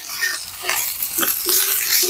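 Hot oil sizzling and spitting in a tava as chicken cooks on a farmhouse stove, with crackling bursts rising and falling and a few stirring scrapes, close and moderately loud.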